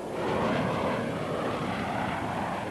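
A military jet aboard the aircraft carrier USS Enterprise gives a steady, loud, broadband engine roar that holds throughout, with no voices.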